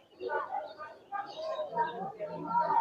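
Pigeons coo softly and continuously at a crowded pigeon market in Khulna, low throaty warbles mingled with faint background chatter, fairly quiet and close.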